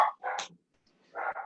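Dogs bark indoors in two short bursts, a couple of quick yaps followed by a pause and another pair of barks, moderately close and loud.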